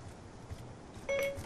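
A short electronic chime from a phone's Siri voice assistant activating during a Black Ops 2 gaming session, a single brief tonal beep rising clearly above quiet background noise near the end.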